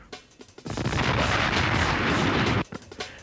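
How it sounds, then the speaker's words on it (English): Homemade catapults launched all at once by students, giving a loud, sustained burst of clattering, thumping and rumbling noise lasting about two seconds, with scattered knocks before and after. "Everybody launches their catapults and see how their finished product performs."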